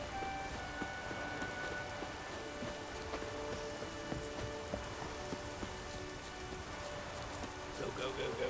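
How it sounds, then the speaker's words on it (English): Steady rain falls in the video game The Witcher 3, a soft constant patter with faint tonal game sounds and some quiet talk over it. "Maybe we needed a spot of rain."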